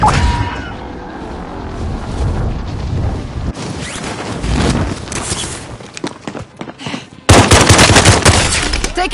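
Sustained automatic gunfire in a military shooter game, loud bursts and rapid volleys with booms, continuing throughout and intensifying toward the end, with faint voices under it.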